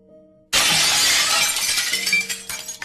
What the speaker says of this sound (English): I heard the sound of glass shattering from a few rooms over.